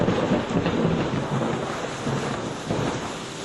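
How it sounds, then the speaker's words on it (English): Low rolling thunder rumbles with a rain-like hiss, sustained and fairly close, swelling and easing over a few seconds with no voices. "Only Stanislavski can bring in the lightning and the thunder on cue."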